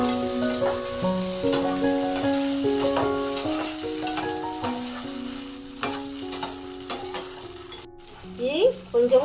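Mottikayalu fry and get stirred in a pan, a steady sizzle under repeated scraping and clinking strokes of a utensil against the metal, close and fairly loud, with no one talking.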